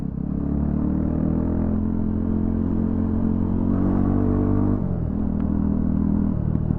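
A Yezdi Scrambler motorcycle with its exhaust removed revs loudly and close on a highway, a raw, steady engine drone with a brief throttle drop near the end before it picks up again; no talking.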